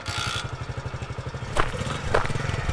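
Motorcycle engine idles with a rapid, even thumping pulse, close and moderately loud, with a couple of clunks partway through.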